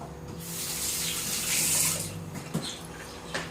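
Kitchen tap running steadily into a sink as something gets a wash, a continuous close splashing stream with a couple of small knocks near the end, no talking.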